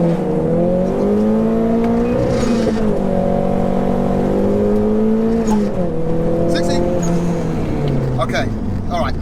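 A 340 bhp Nissan Pulsar GTI-R launches and accelerates hard, its engine note climbing through the revs with gear changes, loud and close from inside the car. A voice speaks over it.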